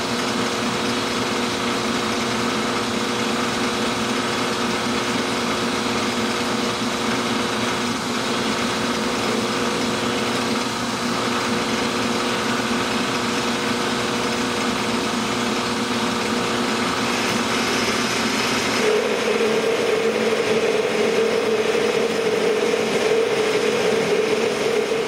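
A metalworking machine makes cutting passes on a mill base part, a continuous droning machine hum that holds steady and then shifts to a slightly harsher, brighter tone toward the end. No voices.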